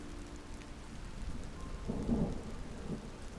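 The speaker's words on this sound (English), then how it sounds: "As rain from the top of the tree's canopy makes its way all the way down this network of nature" Soft, steady rain patters down through a tree canopy as an ambient backdrop, with a low rumble swelling briefly midway like distant thunder before settling back to a quiet, even hiss.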